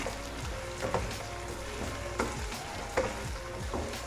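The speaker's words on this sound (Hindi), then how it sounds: "और सब्जियों को अच्छी तरह फ्राई होते तकरीबन 3-4 मिनट हो गए।" Chicken, capsicum and other vegetables fry for a desi masala pasta with a steady close sizzle. A few stirring scrapes and knocks sound over it, and no one speaks.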